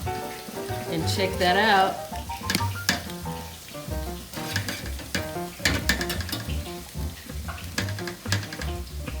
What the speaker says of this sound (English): So I'm going to flip my burgers